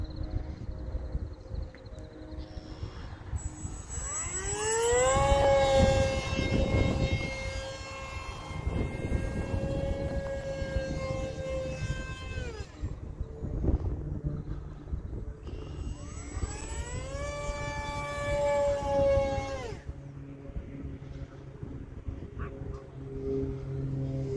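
The electric motor of a HobbyZone AeroScout S 1.1m RC model airplane whines up in pitch twice with a slow start-up, spooling from low to a high steady tone, then cutting off, over a rumbly outdoor background.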